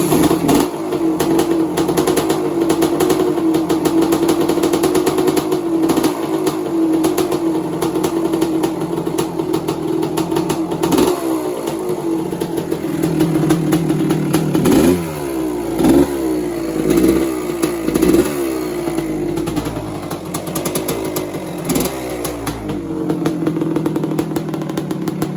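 A freshly top-end rebuilt 1986 Kawasaki KX250 two-stroke dirt bike, running smoky, idles with a raspy crackle then gets several sharp blips of the throttle, rising and falling revs loud and close throughout.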